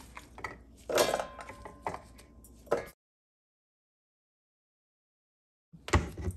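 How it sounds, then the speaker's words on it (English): A knife on a board minces green chilies, ginger and garlic in a few quick, sharp knocks and clinks, then falls silent for several seconds before another short burst of strokes. "Our next step is to mince the green chilies along with the ginger and the garlic."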